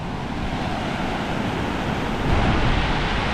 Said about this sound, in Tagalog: At medyo malapit yung dagat ngayon.